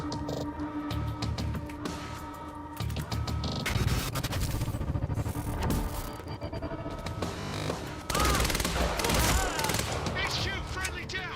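Gunfire in the Quantum Break video game: sustained bursts of shots layered over dense music and combat effects, with a louder surge of firing late on, steady and close throughout.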